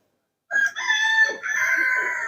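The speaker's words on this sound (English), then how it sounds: "Where are you going, rooster?" A rooster crows once, loud and close, a harsh drawn-out call lasting about two seconds after a moment of silence.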